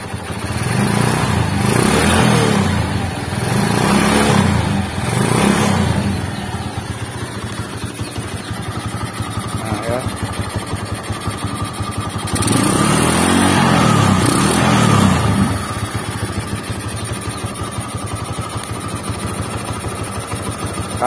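A Honda Megapro motorcycle running with its lights on revs up twice, the engine swelling loudly and then dropping back to a steady idle, close by with no talking.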